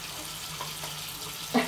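Warm water runs steadily from a tap while a baby is bathed, a soft continuous trickle with a brief splash near the end.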